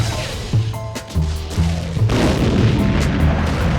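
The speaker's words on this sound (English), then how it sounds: "and right away there were rifles and cannon." Low booms of cannon fire mixed with gunfire, several heavy thuds in an irregular sequence giving way to a dense rumbling barrage, loud and close.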